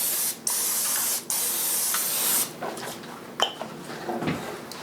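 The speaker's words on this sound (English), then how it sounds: "I sprayed with a little butter on it." Cooking spray of butter misted onto a raw strip loin steak in a home kitchen, a few close, steady hissing bursts with short gaps between them, then quieter clatter.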